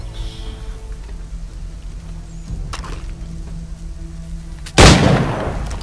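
A single gunshot in the video game Assassin's Creed 3 lands as one loud sharp blast that rings out and decays, following several seconds of quiet in-game ambience.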